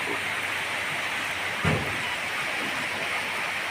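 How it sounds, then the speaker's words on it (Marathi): Steady, gentle rain falls without wind at Arali Budruk near Tuljapur. It makes an even, continuous hiss, with one brief soft thump partway through and no voices. "स्थिर पाऊस पडतो आहे शांत पाऊस पडतो आहे"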